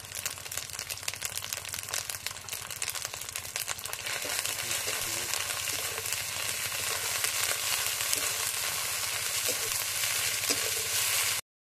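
Rice for Bengali-style fried rice frying steadily in a pan and stirred, a continuous loud sizzle with scraping and crinkly stirring noises throughout, no talking.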